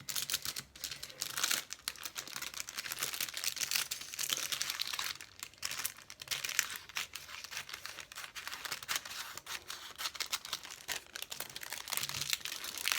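Paper is handled and cut for an envelope craft, giving a continuous close crinkling and rustling with scissor-like crunches and brief pauses, without speech.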